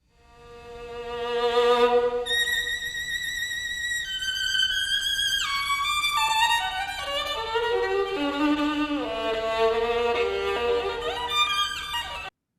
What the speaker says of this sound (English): And the violin sounds like this.